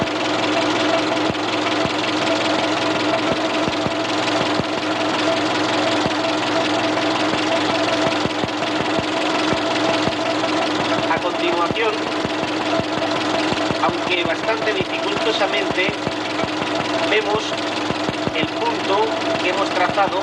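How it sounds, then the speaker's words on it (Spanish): A car engine idling steadily in a workshop while its ignition timing is checked, a close, continuous rough drone with a regular knocking pulse throughout, and someone speaking over it. "Ahora el motor está en marcha y vemos el punto."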